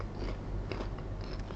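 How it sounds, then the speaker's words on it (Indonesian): Crisp crunching as fish crackers (krupuk ikan) from Pasuruan are bitten and chewed close up, several brittle cracks over a steady background hum. "Teman-teman bisa dengar sendiri ya, kriuk-kriuknya."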